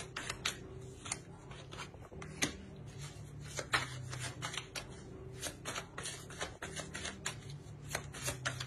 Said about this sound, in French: On va rajouter une carte.